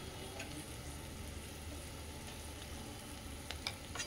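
Gram flour mixture frying in extra oil for a vegetarian dish, a faint, even sizzle close by, with a few light stirring scrapes and ticks near the end.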